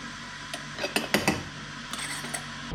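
Light metallic clinks of small spoons tapping together, a handful of quick, close chinks spread irregularly over a quiet background.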